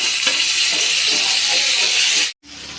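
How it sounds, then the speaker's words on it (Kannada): Tomato dropped into hot oil with a little salt in a pan, giving a loud steady sizzle and hiss that is stirred for a couple of seconds, then cuts off abruptly before resuming more quietly. "ಟೊಮೆಟೊ ಹಾಕ್ತಾಯಿದ್ದೀನಿ"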